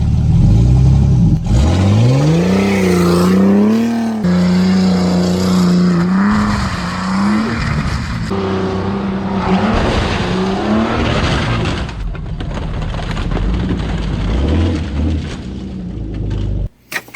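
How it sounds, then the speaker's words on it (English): An RC Jeep's motor revs and whines continuously, its pitch rising and falling as it accelerates, with scuffing and rattling from the terrain throughout and a sudden stop at the end. "It's my RC car Jeep"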